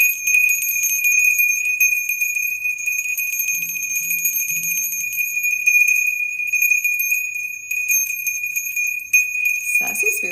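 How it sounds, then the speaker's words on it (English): A bell rung during a live online session rings in a long, sustained high bright tone that holds steady and loud throughout, with faint murmuring underneath. "Let's ring the bell."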